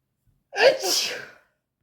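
A single sharp sneeze, triggered by paper, bursts out close to the microphone after silence during paper craft work, a quick intake followed by a breathy, spraying release, then quiet again.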